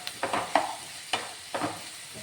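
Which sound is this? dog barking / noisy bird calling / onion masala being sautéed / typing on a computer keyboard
onion masala being sautéed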